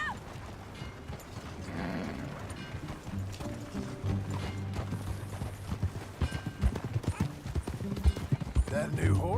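Horse hooves clip-clop in the Red Dead Redemption 2 video game, a steady rhythmic trotting beneath game music and ambient noise, growing slightly louder toward the end while characters talk.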